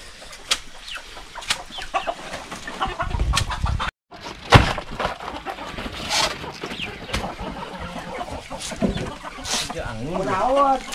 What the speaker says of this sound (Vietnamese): Này gà đấy các bạn này, nhà cô chú nuôi được rất là nhiều gà